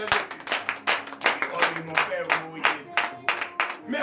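A church congregation claps together in acclamation during morning prayer, with rhythmic rounds of hand claps mixed with voices and cheering.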